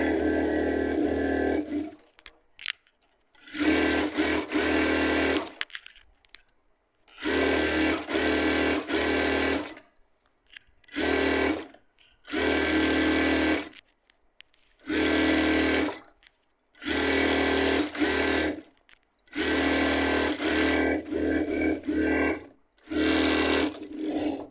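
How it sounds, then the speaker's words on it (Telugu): Sewing machine stitching along a folded fabric edge, running in loud, close bursts of several seconds each, separated by short quiet pauses as the work is repositioned. "ఇట్లాగా కట్ చేసిన పీస్ మొత్తాన్ని కూడా ఒక సైడ్ మడిచి మొత్తం కుట్ చేసుకోండి"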